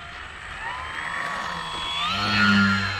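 Electric motor of a Dynam Cessna 188 RC airplane fitted with a larger propeller, a steady high whine that rises in pitch and grows louder as the throttle opens, with no talk over it.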